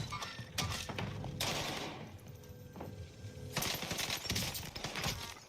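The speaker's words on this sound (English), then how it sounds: "shooting a wall in the same place someone is standing behind is pretty sus" Rapid bursts of gunfire in a video game, rounds fired at a wall, come in two loud clusters of dense shots with a quieter stretch between them.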